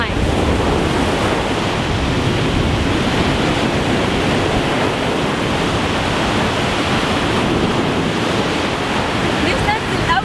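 Sea waves on the Alexandria coast, a loud continuous wash of surf mixed with wind rumble on the microphone, with no breaks throughout.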